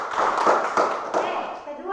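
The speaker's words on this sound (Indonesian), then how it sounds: "Tepuk tangan untuk Yolin." Students in a primary school classroom give a short burst of clapping for a classmate, a few seconds of close, moderately loud applause that fades out.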